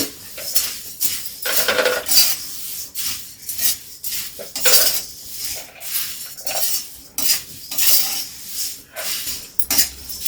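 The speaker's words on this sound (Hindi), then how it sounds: "अब इसमें हम मुरमुरे को भी थोड़ा रोस्ट कर ले रहे हैं।" Dry puffed rice rustles and scrapes against a metal pan as it is stirred and roasted, with irregular clinking strokes close by.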